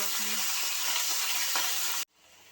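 Loud, dense sizzling of chopped meat for momo filling frying in hot oil, a steady close crackle that stops abruptly near the end, leaving quiet room tone.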